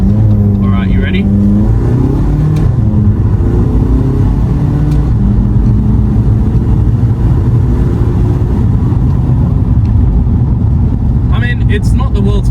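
A 2006 Volkswagen Golf Mk5 with the 1.9 TDI diesel engine pulls hard under acceleration, heard from inside the cabin as a loud, steady low drone that builds, with someone talking over it throughout.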